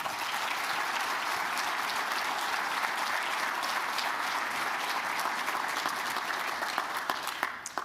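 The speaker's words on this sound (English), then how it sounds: "let's take a second to give a round of applause" A large audience at a county government State of the County address applauds steadily and loudly, with dense, sustained clapping and no pauses for nearly eight seconds before it begins to thin at the very end.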